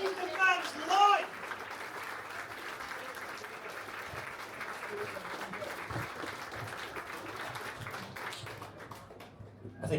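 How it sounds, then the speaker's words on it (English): A gaming convention audience breaks into sustained applause, a broad, even roar of many hands after a brief voice at the start, fading slightly toward the end. "can we have a round of applause?"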